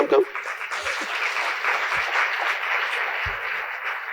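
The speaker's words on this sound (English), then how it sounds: "Can we have a loud applaud for her?" Audience at a talk applauding a volunteer, a steady broadband patter of clapping lasting several seconds at moderate level, with a few brief low thumps and a short vocal sound at the start.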